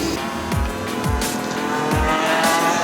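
A Rattlesnake electric sport go-kart runs on a track, giving a steady whirring drive tone with three quick falling sweeps as it brakes and turns, plus brief tire scrubbing, all close and fairly loud with no talking.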